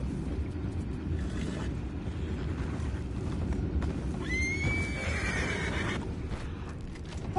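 In a video game, a single horse whinnies loudly partway through, rising then trailing off, over a constant rumbling background.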